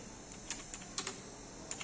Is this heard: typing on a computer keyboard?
yes